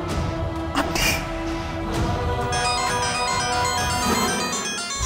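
A phone's ringtone plays as a steady, repeating electronic melody in the middle of a Bengali TV serial scene, sitting over a constant dense background of music and ambience for several seconds.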